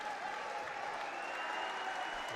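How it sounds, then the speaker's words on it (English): A Metamora crowd at an IHSA 3A boys sectional basketball game applauds a player checking out, a steady wash of clapping and crowd noise filling the gym throughout, with no clear speech. "And he gets a nice ovation from this Metamora crowd."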